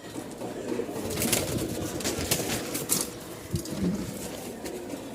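Pigeons kept as a breeding pair coo in low, throaty repeated phrases against a busy, noisy background, with a few sharper bird sounds above.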